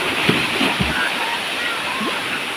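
Pia-aw Falls, a steady broad rush of falling water with splashes close by, while people talk over it.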